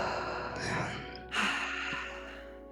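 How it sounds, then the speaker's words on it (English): A slow, deep breath taken during a guided relaxation exercise: a soft, airy inhale followed by a gentle exhale, fairly quiet and close, with faint background hum. "And now, one more deep breath."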